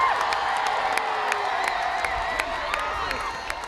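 A crowd cheers and shouts steadily around a couple on a street walkabout, a continuous mid-level roar with scattered whoops and camera-click-like ticks.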